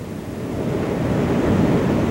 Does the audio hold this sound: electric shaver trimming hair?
no